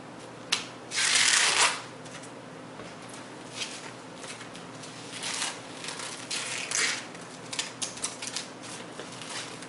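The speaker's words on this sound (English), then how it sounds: "I'm going to go ahead and wrap them up in plastic wrap tight" Plastic wrap pulled and crinkled tightly around pork spare ribs, a burst of loud crackling near the start followed by scattered rustles and crinkles, close up and mostly without talk.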